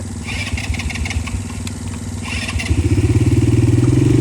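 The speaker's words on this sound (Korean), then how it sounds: "강화도에 산악 오토바이 타기 체험을 하고 있습니다" A four-wheel ATV engine idles with a loose clatter, then revs up into a louder, pulsing drone as the quad bike pulls away on a mountain riding course on Ganghwa Island, close and strong.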